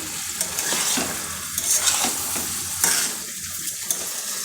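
Chicken being stir-fried kosha-style in a pan as its juices cook off: a steady close sizzle with repeated scraping strokes of a spatula, continuous and moderately loud, no voices.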